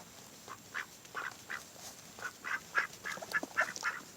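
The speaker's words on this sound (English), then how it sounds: "The 2 males have a totally different sound. They don't really quack. They make this real soft sound." Two young male ducks kept in a large pen give soft, breathy calls rather than true quacks, about a dozen short murmurs spread at a moderate distance over a quiet background.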